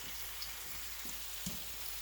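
Steady, soft crackling hiss of hot grease sizzling in an iron frying pan, continuous and even with a few faint pops.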